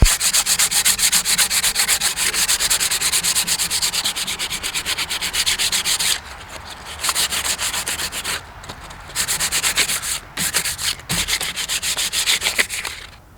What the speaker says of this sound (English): Now I'm just gonna start sanding it down.